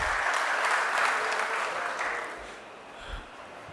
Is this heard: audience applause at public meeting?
yes